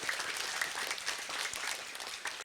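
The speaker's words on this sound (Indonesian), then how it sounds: "Boleh sekali lagi tepuk tangannya untuk DTA Hidayatul Mubtadin" Steady, dense applause from a gathered crowd at a religious study school event, continuous and moderately distant without pauses.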